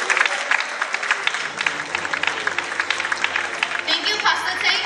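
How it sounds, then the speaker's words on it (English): Dense crowd applause rings out for a year 6 graduating class at a school closing ceremony with certificate presentations, steady and close for about five seconds. "A round of applause for the year 6 graduating class."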